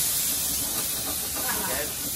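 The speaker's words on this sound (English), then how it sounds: "Then you saute again." Mushrooms sautéing in a pan for penne carbonara in a restaurant kitchen, a steady loud hiss and crackle running unbroken throughout, with kitchen voices faintly in the background.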